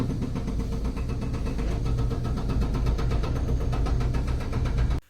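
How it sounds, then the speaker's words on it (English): Heavy machinery and engines drone loudly and constantly in a working scrapyard, a dense rumbling roar with rattling texture that cuts off abruptly at the end. "Obviously, in a working scrapyard, it's very, very noisy."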